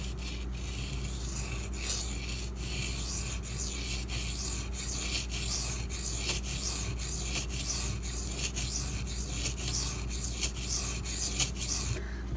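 Steady, continuous rubbing rasp of a Spyderco Native 5 folding knife with a Maxamet steel blade being sharpened on a plunge-ground bevel, the strokes running evenly and close throughout with no talk.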